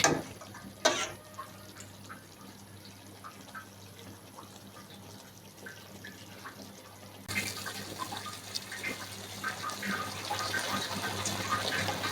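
Water pours into a pan of broiler chicken bhuna: a soft splash starts, then a steady trickle runs on quietly and grows louder and fuller toward the end, with no talking.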